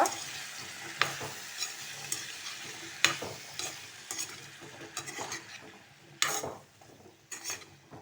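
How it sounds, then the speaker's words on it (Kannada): Soft sizzling of sweet potato frying in a tempering in a pan, with intermittent spoon scrapes and clinks as it is stirred, fairly quiet overall. "ಒಗ್ಗರಣೆಯೊಂದಿಗೆ ಸ್ವಲ್ಪ ಫ್ರೈ ಮಾಡಿಕೊಳ್ಳುವ"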